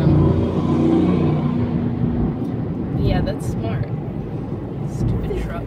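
A loud truck rumbles close by and then fades, with someone talking over the noise.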